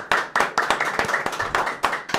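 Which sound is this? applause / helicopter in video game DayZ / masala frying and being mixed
applause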